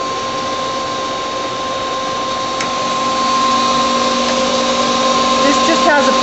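A 1998 Star SV-20 CNC Swiss-type lathe with a Fanuc 16T control runs its spindles up toward 10,000 RPM, giving a steady tonal machine whine and hum that grows louder partway through.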